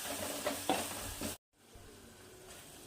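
Finely chopped tomato sautéing in a pan, a soft sizzle with a few scraping stirs of a spatula, then a sudden cut to near silence followed by a faint, duller hiss, quiet and close with no speech.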